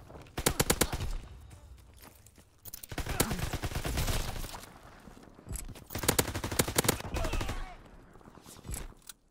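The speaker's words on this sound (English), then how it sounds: "we're using the good old grease gun" Grease gun submachine gun firing in Call of Duty: WW2, loud bursts of rapid automatic fire in several separate volleys, with game effects and a player's voice in between.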